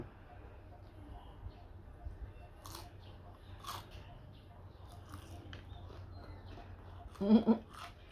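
Crisp home-fried Thai chive cakes are bitten and chewed close up, with soft crunching bites and one louder crunch near the end over quiet room noise and someone speaking.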